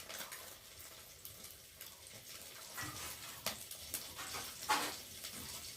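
Eggs frying lightly in oil in a home kitchen pan, a soft steady sizzle with occasional sharper spatula scrapes and clinks, fairly quiet and close, no talking.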